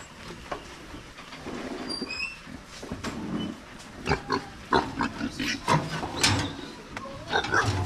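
A live pig bought for lechon roasting grunts and squeals close by, in repeated short bursts over a noisy yard, with a few brief voices nearby.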